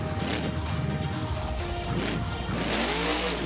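The 35th anniversary Gravedigger monster truck in a BeamNG monster truck mud battle, its big engine revving loud and close, rising and falling in pitch as it launches and pulls a wheelie.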